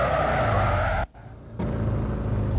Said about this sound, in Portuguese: Faz drift e tudo mais